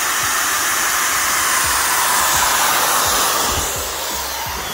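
A pipe threading machine cuts threads on gas pipe with a loud, steady, broadband motor whir and faint low knocks that ease off slightly near the end, heard close and with no talking.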